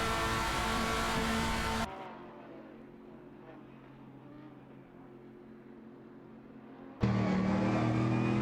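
Race car engines in an AI racing video game: a loud, dense engine roar at the start and again at the end, with a quieter stretch of distant engine drone between them.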